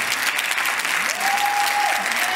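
A standing ovation at a business school graduation, loud sustained applause from the audience with a brief tonal whistle or voice rising within it.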